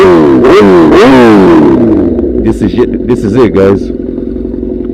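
Sportbike fitted with a Danmoto XG-1 exhaust, loud close revving with two sharp throttle blips that rise and fall, then a rough lumpy idle broken by quick short blips, with brief talking over it.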